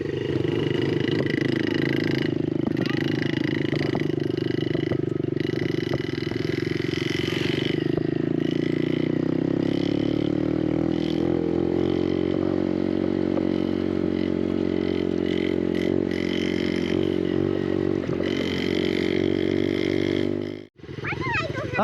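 A Yamaha TTR125 dirt bike ridden by a learner working the clutch, its engine droning steadily and loud up close, pitch shifting and rising midway as it changes gear, before cutting off abruptly near the end.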